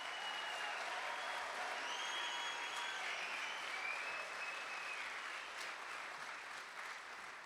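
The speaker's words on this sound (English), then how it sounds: "So let's give all the tribes a round of applause." A large crowd at a casino grand opening ceremony applauds for the tribes in a broad, continuous wash of clapping, with faint whistles, slowly tapering near the end.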